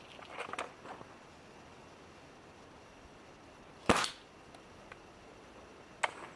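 An air rifle firing in a shot at a tank target: one sharp, loud crack near the middle, with a few fainter clicks and knocks before and after over a quiet outdoor background.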